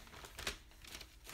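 Wrapping paper crinkles and rustles close up as books are being wrapped, with a sharper crunch midway through and softer crackles around it.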